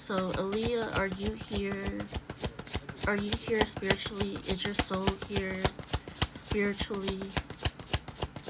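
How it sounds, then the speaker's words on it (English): Tarot cards are shuffled steadily throughout, a dense run of crisp rapid riffling clicks close by under continuous talking from a woman during a psychic reading. "I'm going to shuffle these cards"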